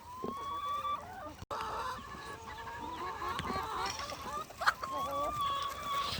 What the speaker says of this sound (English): to then bring in the chickens.